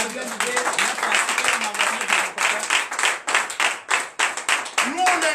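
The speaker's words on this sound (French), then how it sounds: "Je vous demande d'applaudir très fort." Loud, sustained applause from a crowd at a night church prayer service, dense rapid clapping with voices faintly mixed in underneath.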